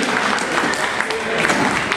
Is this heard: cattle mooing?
no